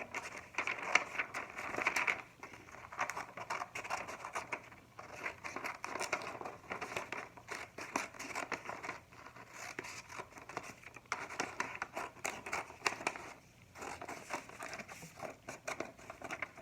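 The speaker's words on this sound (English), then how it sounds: "Then we're going to cut out our octagon." Scissors cutting out a paper octagon stop sign, with steady crinkling and snipping of paper that goes on nearly continuously, close and moderately quiet.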